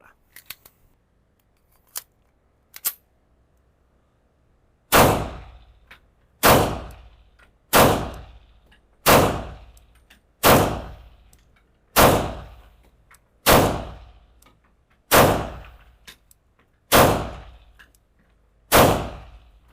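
An Arsenal Strike One pistol, an Italian-Russian handgun, fires nine sharp loud shots at a steady pace of roughly one every two seconds, each with a short decaying tail, after a few quieter handling clicks.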